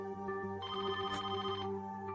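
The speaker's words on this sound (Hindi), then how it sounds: "इतनी रात को किसका फोन आ गया?" A telephone ringing late at night in a home, a clear electronic ringtone with layered tones sounding steadily and fairly close, alone without any voices.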